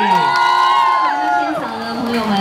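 A live audience at a Taipei fan event for a singer cheers loudly, with overlapping high excited shouts and whoops running continuously.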